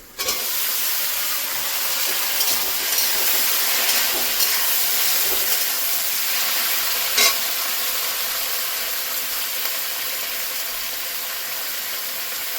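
Tomato and eggplant frying in a pan with onion, green chilli and garlic: a continuous loud sizzle and hiss with occasional stirring scrapes and small crackles, with no talking.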